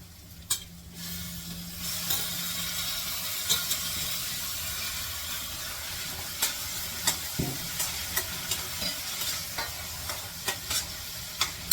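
Chopped tomato and bay leaves frying for pav bhaji, with a steady close sizzle and repeated scraping stirs of a spoon against the pan throughout.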